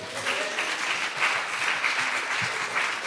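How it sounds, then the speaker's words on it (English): Steady audience applause fills a live spoken-word comedy and poetry show, a dense, even wash of many hands clapping at once for about three seconds, moderately loud and unbroken by speech. "Give yourself a round of applause, please."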